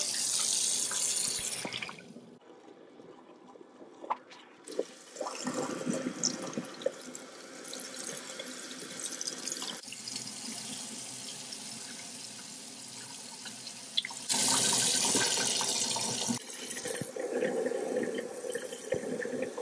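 Tap water runs in a sink during at-home hair highlighting, rinsing dyed hair; the flow shifts between a bright steady rush and muffled splashing as it hits the hair, close and continuous.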